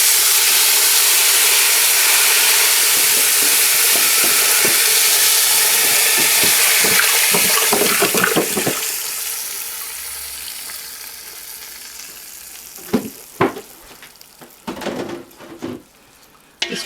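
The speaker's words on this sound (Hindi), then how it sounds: "हम स्ट्रेट अवे अपना दूध ऐड कर लेंगे।" Milk poured into a pan of golden fried vermicelli for sweet seviyan kheer sends up a loud hissing sizzle that fades after several seconds, leaving quieter bubbling and a few clinks of a spoon on the pan.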